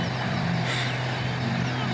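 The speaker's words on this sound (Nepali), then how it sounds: "सुर्खेतको कर्णाली बुलबुलेमा चाहिँ यसरी पानी जहाज पनि चलिरहेको छ अहिले" Passenger boat on the Karnali river at Bulbule, Surkhet, its engine a steady, loud low drone with constant rumble and water-and-wind noise throughout, without pauses.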